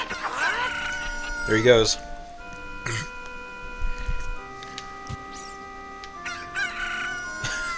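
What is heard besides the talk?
cuccos (chickens) clucking in video game Zelda Ocarina of Time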